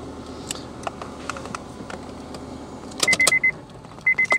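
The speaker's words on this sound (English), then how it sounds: "So I'm gonna go ahead and start it, and so it starts." A manual-transmission car with its clutch switch bypassed is started in neutral: faint clicks come first, then a few sharp, close starter bursts near the end.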